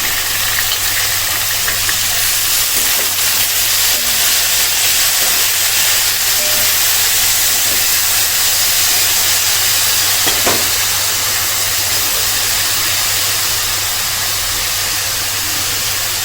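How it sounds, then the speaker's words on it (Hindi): Eggplant goes into a pan of frying garlic, giving a steady, loud sizzling hiss that runs unbroken throughout, with a faint low hum underneath and a brief clack partway through. "अब सिर्फ ये 1 आध मिनट लहसुन को भूनने के बाद इसमें हम बैंगन डाल देंगे।"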